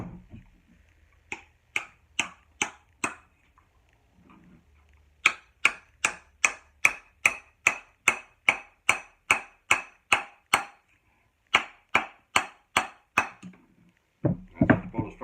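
Sharp, regular hammer taps drive a wedge into a hickory hammer handle, each strike a crisp woody knock in steady runs with brief pauses, close and clear with no talking.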